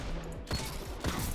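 Two heavy gunshots from The Last Word hand cannon in a shooter game, spaced about half a second apart, loud and booming with a short rumbling tail.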